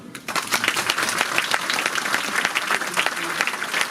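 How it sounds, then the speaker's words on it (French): An audience applauds steadily for several seconds, dense overlapping claps at a consistent loud level. "vous pouvez les applaudir"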